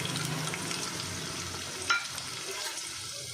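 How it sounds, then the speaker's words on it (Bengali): Chopped garlic and ginger fry in a little white oil inside a pressure cooker, a steady soft sizzle with one brief clink of a utensil midway. "রসুন আদা কুচিটা ভাজা ভাজা হয়ে যাবে একটুখানি"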